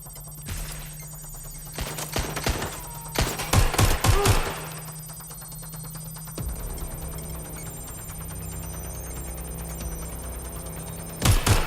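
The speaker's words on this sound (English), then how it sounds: "Taking fire!" Gunfire in Watch Dogs: Legion, sharp bursts and single shots cracking in clusters at the start and again at the end, loud and close over a steady electronic hum, with no talking.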